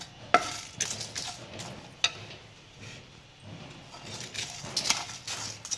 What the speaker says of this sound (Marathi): बारीक गॅसवर आपण हे सगळं व्यवस्थित 1 मिनिटभर छान परतून घेऊया